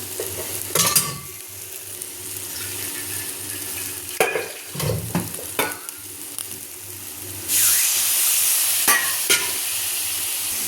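Spices with chilli powder frying in a pan after a splash of water, stirred with scraping metal strokes and occasional clinks over a steady low sizzle that grows louder toward the end.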